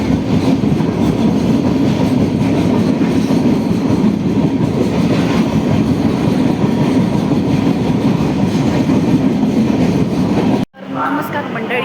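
Steady rumble and rhythmic rattle inside a moving Netravati Express passenger train on the Konkan route, loud and continuous throughout, cutting off abruptly near the end.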